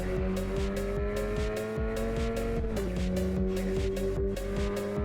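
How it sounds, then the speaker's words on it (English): Racing game car engine with a muffled, underwater-like drone, steady and loud throughout, its pitch holding and shifting as it gears through, with rhythmic ticking pulses and tire squeal tones layered over it. "every time I hear that sound, it sounds like the car is underwater."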